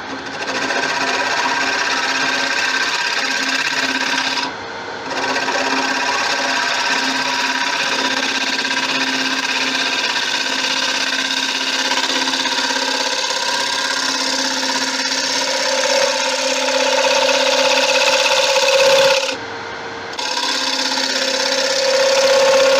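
A carbide tool cuts resin on a hybrid bowl spinning on a wood lathe, a steady close whirring drone with a faint scraping tone that runs almost continuously, broken by two brief pauses.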